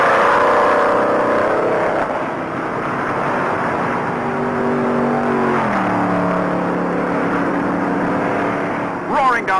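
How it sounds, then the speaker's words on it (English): NASCAR stock cars race in a 68-car field at about 150 miles an hour, with a steady engine roar and a rising drone as the pack sweeps by, heard under continuous commentary. "68 cars play follow the leader at 150 miles an hour."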